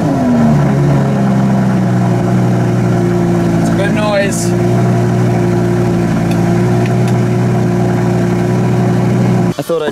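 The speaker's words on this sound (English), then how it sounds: "I always open the window slightly so I can hear the startup sound" Lamborghini Gallardo engine starting and settling into a loud, steady idle heard from inside the car, with a brief rising whine partway through and a clunk near the end.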